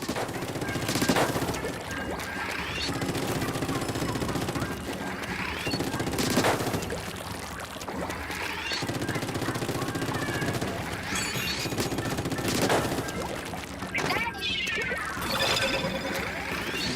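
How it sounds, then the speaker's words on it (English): The Splatling gatling weapon in Splatoon 3 fires in sustained rattling bursts over a busy match, with splashing impacts and periodic louder crashes throughout. "With the Splatling I can gun things down a lot easier."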